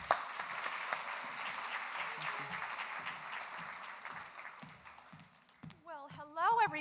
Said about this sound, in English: Audience, please help me welcome author Dana Mentink to the stage by giving her a big round of applause.